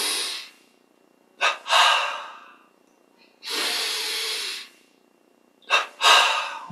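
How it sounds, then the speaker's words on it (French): Breathing exercise with double inhales: two quick, sharp sniffing intakes come in close succession, followed by a long, airy exhale, and the pattern repeats. The breaths are close and loud against silence. "inspire, double inspire"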